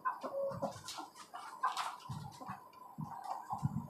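Desi hens kept in a cage give soft, intermittent clucks and low grunting calls, fairly faint and close, with no talk.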